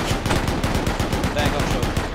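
Rapid machine-gun fire rattles continuously in a WWII tank video game, a dense run of sharp shots at a steady rhythm, close and loud.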